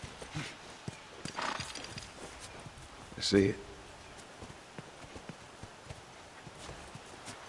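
Horse neighing and hooves clip-clopping in The Last of Us Part II, a single whinny standing out midway with soft hoof steps around it, under intermittent talk.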